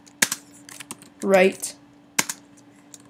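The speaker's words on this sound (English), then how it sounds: "you are going to type in defaults" Keys clack on a Mac computer keyboard as a command is typed into Terminal, giving a few scattered, close taps along with a brief spoken word.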